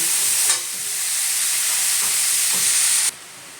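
Shredded cabbage is tossed into hot oil with cumin and sets off a loud, steady, hissing sizzle. A few soft knocks come partway through, and the sizzle cuts off abruptly near the end.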